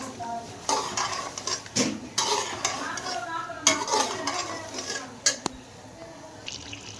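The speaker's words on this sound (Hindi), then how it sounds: "अब हम 4 से 5 मिनट तक अच्छे से इसको भून लेंगे।" Potatoes and peas frying in masala in a pan, a low sizzle broken by repeated spoon scrapes and clanks against the metal, close and moderately loud.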